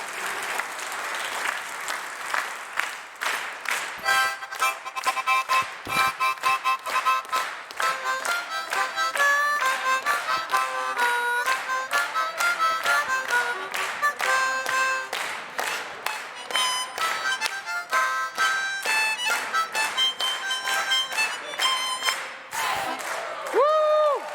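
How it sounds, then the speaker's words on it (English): Audience at a 2022 variety show clapping loudly and continuously, a dense close burst of applause lasting over twenty seconds with some cheering mixed in, tapering briefly at the end. "Can we get some claps?"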